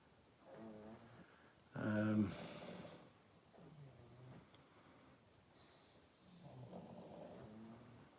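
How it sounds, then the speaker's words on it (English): Pug dogs snoring indoors, with a few slow, rasping breaths spaced several seconds apart, one much louder snort in the middle, all faint and close with no talk over them. "Listen to my snoring pugs."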